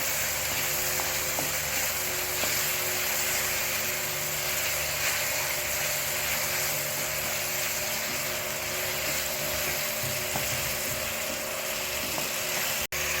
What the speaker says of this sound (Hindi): हल्के से बस हम अपने टमाटर जो हैं वो सॉफ्ट करेंगे।